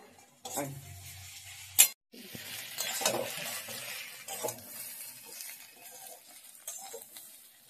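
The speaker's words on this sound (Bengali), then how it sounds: "আমার পেঁয়াজ গাঠি কচু ভাজা হয়ে গেছে" Onion and gathi taro fry in a pan with a soft sizzle, stirred with scraping and clinking against the metal, including one sharp knock, at moderate closeness without speech.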